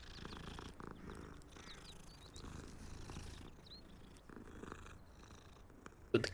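A cat purrs softly while being petted in the video game Hogwarts Legacy, a low continuous rumble under faint ambient game sounds, ending with a brief sharp click.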